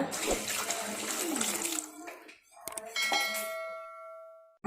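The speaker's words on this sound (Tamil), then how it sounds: "இப்போ கரைச்ச புளி தண்ணியை சேர்த்துக்கலாங்க." Tamarind water for tomato rasam is poured into a cooking pot, a splashing, trickling pour that fades out midway and is followed by a couple of light clinks and a brief ringing tone.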